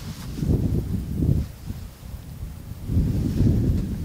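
Gusts of wind buffeting the microphone in low, rumbling bursts that rise, fade, then surge again.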